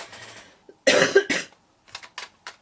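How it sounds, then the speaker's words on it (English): A close, sharp cough bursts out in a couple of harsh fits, followed by a few smaller throaty coughs; no talking. "I am coming down with a cough and a cold"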